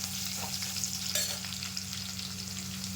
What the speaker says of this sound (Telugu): ఇవి కూడా ఉల్లిపాయ ఎర్రగా వేగేంత వరకు వేయించుకోవాలండి